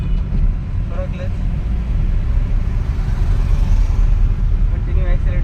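A car pulls away in second gear during a driving lesson, a low, steady engine rumble rising slightly over the run with some faint background noise and no clear speech.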